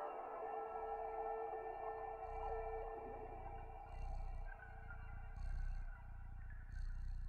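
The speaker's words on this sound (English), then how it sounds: "Can y'all hear the cat purr?" A low, rhythmic purring rumble from a cat in a PlayStation 5 game pulses in slow waves, accompanied by soft tonal hums and bright chiming bursts in the background.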